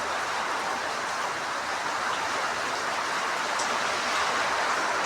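Heavy rain pours down in a steady, dense hiss that stays constant and fairly loud throughout, with no voices.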